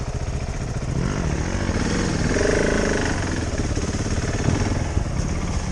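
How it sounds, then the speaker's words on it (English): A KTM 690 Enduro R motorcycle engine runs loud and continuous nearby on an off-road ride, a buzzing drone with slight changes in pitch. "I heard engine and then I didn't."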